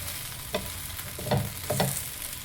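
Food fries on a pan as its other side cooks, giving a close, steady sizzle with a few soft scraping stirs.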